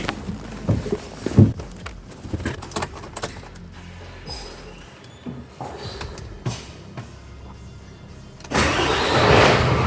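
A lift machine's engine cranks and fires up after new batteries are fitted, catching near the end and settling into a loud, steady run after scattered clunks and footsteps.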